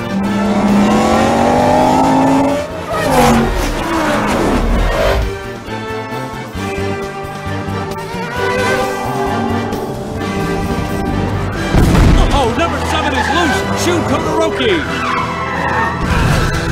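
Animated race cars from Cars 2 roaring around a hairpin, engines revving loud and close with tire squeals and a crashing thump, under excited commentator speech.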